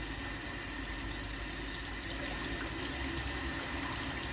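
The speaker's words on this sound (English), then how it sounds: "Your hot water is on right now." Hot water runs steadily from a tap, a constant broadband rush with no pauses, fairly close and alone.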